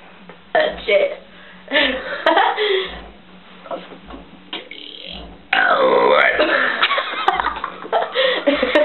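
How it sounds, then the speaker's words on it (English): A blonde woman lets out a series of loud, close burps, some long and drawn out, with laughter and talking around them. "I can't burp no more."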